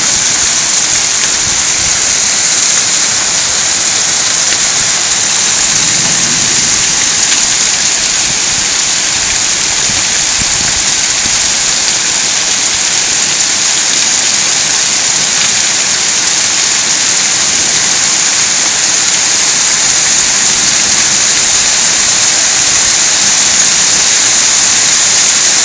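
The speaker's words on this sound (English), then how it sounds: "It is hail falling." Hail pours down steadily during a July Fourth summer thunderstorm on Laurel Mountain, a dense, continuous hiss of ice striking surfaces that stays loud and unbroken throughout with no voices.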